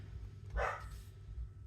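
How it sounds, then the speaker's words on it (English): A dog indoors gives a single muffled bark, faint and a little distant, followed by quiet room noise. "sorry for the dog,"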